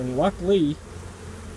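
Honeybees buzz around a heavy truck tire with a hive set on top of it. A voice speaks briefly over them, then a steady low drone carries on alone.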